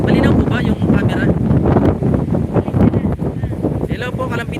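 Strong typhoon wind buffets the microphone in a loud, steady roar that gusts and rumbles throughout, with voices talking faintly underneath.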